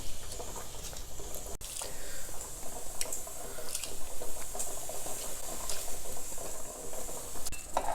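A pot of pongal with rice and dal boiling over: a dense bubbling hiss with scattered patters and drips, steady and fairly near, with no speech.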